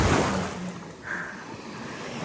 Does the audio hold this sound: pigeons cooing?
no